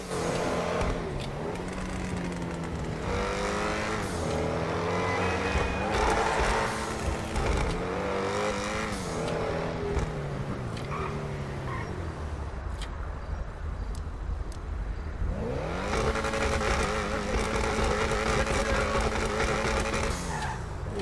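A GTA 5 car engine revs up and down through gear changes, with a whooshing turbo character, loud and continuous, easing off briefly before surging again.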